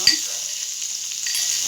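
Coarsely crushed ginger and garlic frying in a pan for methi dal, a steady high hiss of sizzling with a brief clink at the start, close and continuous.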